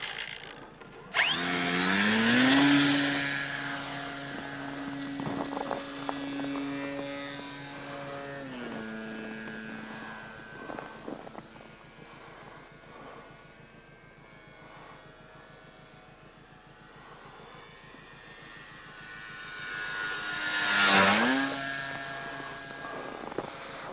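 A radio-controlled model airplane's small engine revs up sharply and whines into takeoff, the pitch shifting as it climbs away and fades, then swelling loud again as it passes close overhead near the end.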